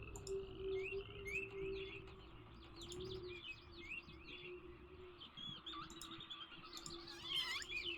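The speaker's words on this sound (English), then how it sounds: "Goodbye to the frog noises." Ambient nature sounds from the video game Myst: a steady chorus of frogs croaking beneath chirping bird calls, faint and continuous with a low hum, no talking.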